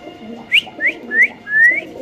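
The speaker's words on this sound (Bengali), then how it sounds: "এটা হলো ইন্ডিয়ান বেনারসি কবুতর" Indian Benarasi pigeons at a bird market, heard as four short rising whistled notes close by, each a little longer than the last, over a soft background murmur.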